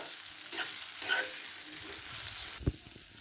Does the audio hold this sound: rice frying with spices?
yes